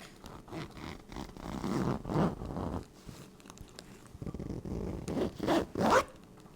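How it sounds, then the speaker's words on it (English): A pillow's zipper being pulled open in several short, scratchy bursts with brief pauses between, close and fairly quiet. "zipper sound."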